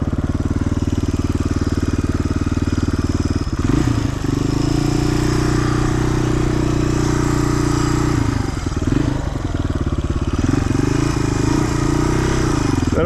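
Motorcycle riding through the desert, a loud, steady engine drone close to the microphone with brief dips and revs as the throttle shifts, no voices over it.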